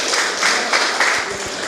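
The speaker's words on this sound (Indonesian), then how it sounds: "Tepuk tangan dulu buat golongan darah A." Audience applause at an Indonesian talk show, a brief, dense patter of many hands clapping at moderate loudness with a few sharper claps standing out.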